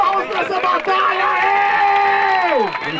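An audience at a Brazilian street rap battle claps, cheers and whoops in a dense, steady roar of crowd noise, with a voice shouting on top.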